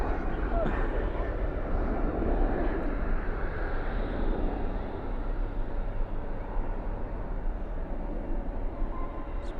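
An airliner landing at night at DFW airport with spoilers up and thrust reversers deployed, a broad distant roar holding steady throughout, with people talking over it.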